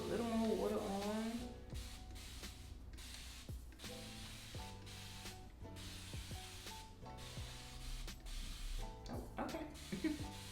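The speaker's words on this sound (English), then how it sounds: "So I'm just gonna spray a little more water on." Water misted onto hair from a spray bottle in short hissing bursts with clicking trigger pulls, close by, while a person talks over the spraying.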